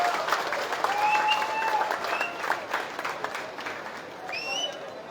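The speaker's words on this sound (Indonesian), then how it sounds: "Tepukan yang gemuruh untuk beliau." Loud, sustained applause from a crowd at a public event in Keningau, Sabah, a dense steady roar of clapping lasting throughout, with faint voices and a few bright tonal sounds rising above it.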